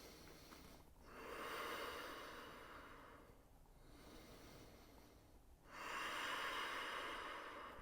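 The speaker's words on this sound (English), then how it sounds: "Deep breath." Slow deep breathing during home yoga practice, a long soft inhale followed by a long exhale and then another inhale, faint, close and unhurried with no talking.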